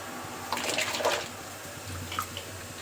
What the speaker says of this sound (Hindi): और इसमें मैं सब्जी डालने जा रही हूँ।